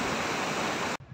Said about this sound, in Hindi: हम लोग पानी की आवाज़ सुनते सुनते थोड़ा आगे आ गए